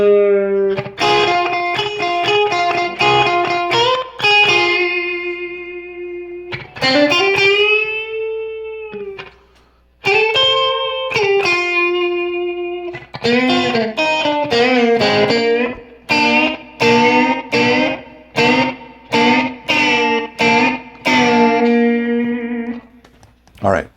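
Lead guitar riff played in open G tuning, ringing double stops with an effects-tinged, slightly distorted tone, phrased in sustained bends then clipped rhythmic stabs, loud and up close with no voices.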